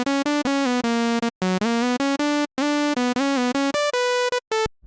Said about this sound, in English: So you can obviously take a saw wave with a melody, and it sounds like this.